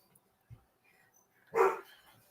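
A single short dog bark rings out close by, followed by a brief lower thump, with long quiet gaps before and after.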